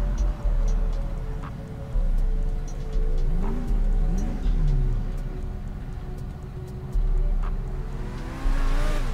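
A Ferrari LaFerrari engine in a police roleplay video game, droning steadily with a few rising and falling revs and a climbing whine at the end, heard close over a low rumble.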